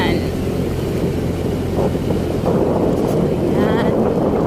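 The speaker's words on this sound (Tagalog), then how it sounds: "Malamig ang simoy ng hangin." Cold wind blows across a foggy mountain road leading to the Sea of Clouds, a steady rushing buffet on the microphone that holds for a few seconds, with a voice speaking faintly beneath it.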